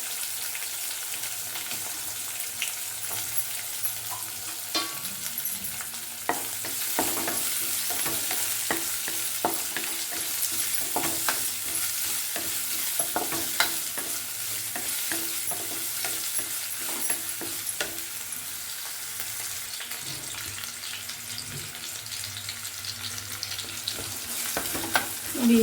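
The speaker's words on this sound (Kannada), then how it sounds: "ಬೇಗನೆ ಹಾಕ್ತೀನಿ ಈರುಳ್ಳಿನ, ಇಲ್ಲಾಂದರೆ ಮನೆಯೆಲ್ಲ ಘಾಟಾಗುತ್ತೆ" Onions fry in a pan in a home kitchen, making a steady, dense sizzle throughout with occasional scraping stirs and light clicks, and no voices heard.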